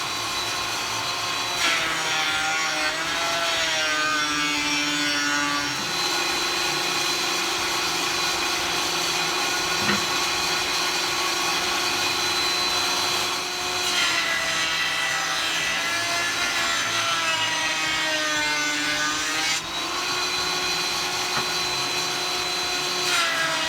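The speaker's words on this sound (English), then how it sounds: "Okay, I got the joiner out. And we're going to get this thing nice and flat." A jointer runs steadily while flattening a wooden fretboard for a homemade electric guitar, a continuous loud machine whine with rising and falling cutting passes as the wood is fed across, with no talking.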